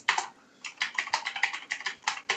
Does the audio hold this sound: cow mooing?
no